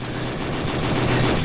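Weapons fire from the Moon Buggy in the vehicle combat game Twisted Metal 4: a dense, continuous barrage of rapid shots and engine noise, loud and close, with no pauses.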